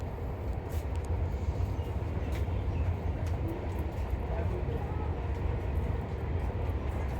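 A passing train rumbles steadily and loudly throughout, a dense continuous roar of wheels and cars with faint voices of people watching underneath.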